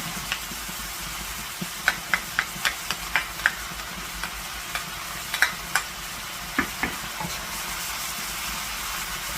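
Vegetarian mee sua noodles stir-fried in a pan with sauces, a low steady sizzle under a quick series of light clicks and taps from chopsticks tossing the noodles, near and fairly quiet, with no talking.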